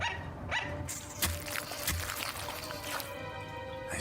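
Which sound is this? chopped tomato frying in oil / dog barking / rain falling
dog barking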